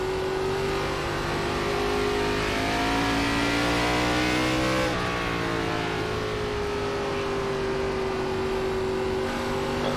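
A NASCAR ARCA race car engine in iRacing at Five Flags Speedway drones steadily at high revs for the whole stretch, pitch dipping and climbing mid-way as the car lifts and gets back on the throttle, loud and continuous.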